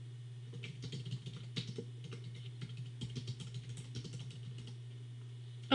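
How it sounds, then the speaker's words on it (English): Fingers tap out a sentence on a computer keyboard in quick, uneven bursts of soft clicks, faint and close over a steady low electrical hum. "I'm going to just type a sentence here."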